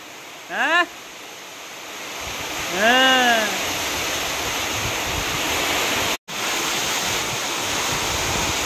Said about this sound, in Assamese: কি বৰষুণ দি আছে চাওকচোন